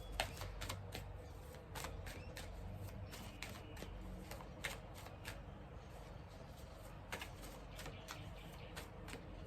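Tarot cards are shuffled by hand, giving soft riffling bursts and light clicking flicks at an uneven pace against a quiet low hum, faint and close with no talking.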